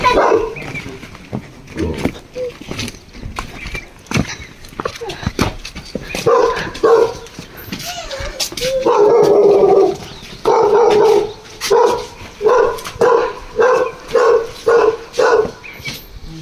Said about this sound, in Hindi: हमारा भी है ना डॉगी